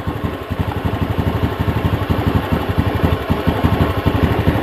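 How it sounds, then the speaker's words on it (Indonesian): A Honda Beat ESP scooter engine idles close by during a charging-circuit check, a steady low puttering beat with a faint rattle throughout. "harusnya motornya masih hidup"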